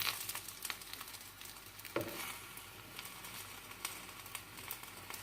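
Batbout flatbreads filled with minced meat fry steadily in a pan, giving a soft continuous sizzle with light crackles and one brief clatter.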